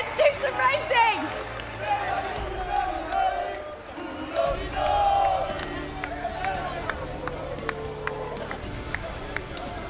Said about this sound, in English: Have you ever heard a crowd like it?